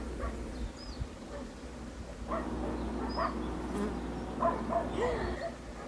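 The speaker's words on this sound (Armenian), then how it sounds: "մեղուները կերան" Bees hum in a steady, close drone around a beehive, with a few faint bird chirps scattered over the buzzing.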